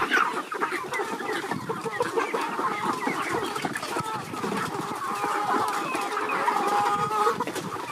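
Free-range chickens on a farm cluck steadily throughout, a dense layer of close and distant hen calls with a busy, continuous murmur.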